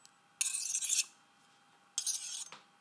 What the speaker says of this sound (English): Clean the blade as you go by scraping it with a knife.